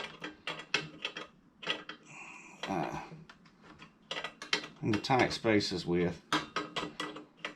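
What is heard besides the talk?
stubby wrench working on a Coleman lantern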